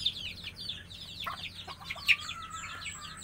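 Backyard chickens with chicks give high, rapid peeping and chirping with soft clucks, close by and continuous, over faint outdoor background noise.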